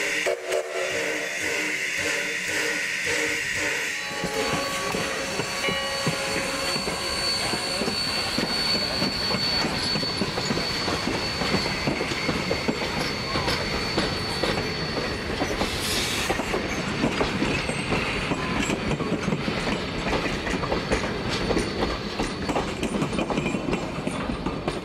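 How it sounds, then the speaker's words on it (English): A heavy steam locomotive hauling heavyweight passenger coaches up a steep grade labors along the rails, wheels clattering steadily beneath a continuous rumble and chuff, with a faint high whistle tone early on. "Engine number 3 will work very hard to keep the heavyweight coaches moving on the arduous climb"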